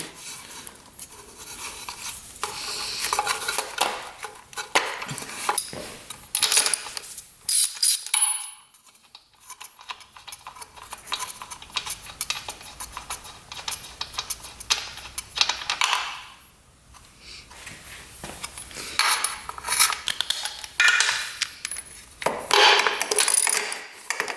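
Spark plugs are removed from a 2-stroke triple motorcycle engine with a ratchet, heard as bursts of close clicking and metallic rattles separated by quieter pauses; no talking.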